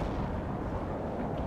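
Mortar strike in World in Conflict: a dense, continuous roar of rumbling explosions and low booms, loud and unbroken throughout the short stretch.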